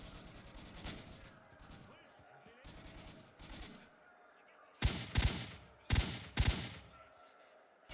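Gunfire in S.T.A.L.K.E.R.: Shadow of Chernobyl, an arena battle where enemies shoot at each other, with scattered distant shots and then several sharp, louder bursts near the end over game ambience.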